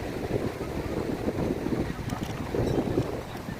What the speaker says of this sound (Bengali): আর প্রচুর হাওয়া চলে